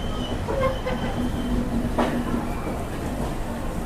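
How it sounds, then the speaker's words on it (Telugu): Kondaveedu Express pulling into Vijayawada station, a steady rumble of rolling rail cars with faint wheel clatter and brief squeals, continuous and fairly close with no talk. "ఫైనల్గా అయితే మన ట్రైన్ వచ్చేసి రెండు నిమిషాలు లేట్గా వచ్చేసి మనకు విజయవాడ స్టేషన్కి అయితే చేరుకునింది"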